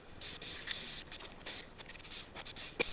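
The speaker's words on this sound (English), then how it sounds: "here I am using the belt sander to grind it down smooth so you cannot see the weld" Belt sander grinding a weld smooth on a metal floor lamp, short bursts of harsh hissing abrasion starting and stopping in quick irregular spurts, fairly quiet and without talk.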